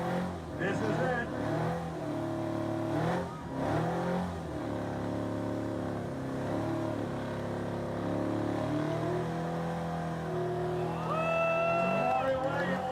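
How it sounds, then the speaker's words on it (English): A station wagon in a burnout contest at a hot rod event roars through repeated high revs, engine pitch climbing and dropping, with crowd noise and talk mixed in. "this wagon that did a Burnout was really cool"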